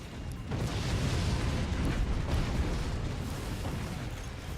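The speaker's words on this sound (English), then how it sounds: "Looks like we had a nuke land dead center for us." Sustained broadband rumble of nuclear missile explosions in the Forts RTS game, a dense continuous roar of blasts filling the whole stretch at steady loudness with no talk over it.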